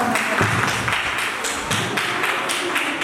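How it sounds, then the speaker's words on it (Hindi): Audience applause filling a hall at a community programme, a steady dense patter of many hands clapping with no voices over it. "जोरदार तालियों से इनका"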